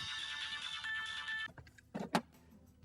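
A mobile phone ringtone for an incoming call plays steadily and clearly in an indoor scene, then cuts off partway through, followed by a few brief rustles and handling sounds.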